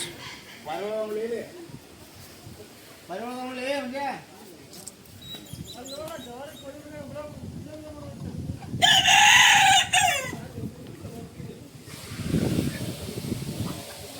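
A rooster crows in a loud burst partway through, with people talking and other farmyard noise before and after.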